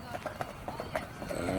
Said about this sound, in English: 5 horses just coming in